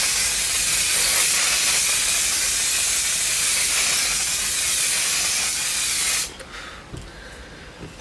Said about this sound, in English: it's an intense spray, but it definitely does work